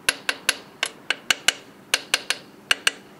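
Sharp metallic taps of an inspection hammer striking heavy truck or trailer parts in a workshop, about fourteen separate hits in uneven groups of two and three, close and clear with short ringing decay.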